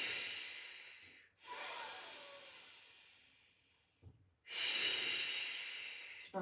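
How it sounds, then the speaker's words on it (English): An instructor breathes loudly and deliberately during a Pilates exercise, long hissing breaths with a slow steady rhythm, close to the mic, each followed by a short pause. "And obviously you don't have to breathe as noisy as I breathe."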